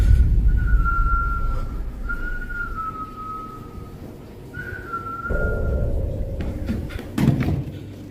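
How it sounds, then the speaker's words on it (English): Whistling in a living room at night, three drawn-out tonal notes, the last slightly higher, over a low rumbling background, followed by a couple of thuds and knocks. "whistling can be heard in the living room."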